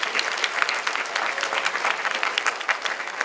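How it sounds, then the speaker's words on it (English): An audience at a high school senior scholarship and honors night applauds donors, a dense, steady patter of many hands clapping at moderate loudness with no voices. "Please join me in giving the donors a round of applause at this time."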